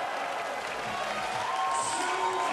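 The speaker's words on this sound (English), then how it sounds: "The crowd are really going wild here now." At a men's high diving final of the 2019 FINA World Championships in Gwangju, a large crowd cheers and applauds in a steady, distant roar with a commentator talking over it.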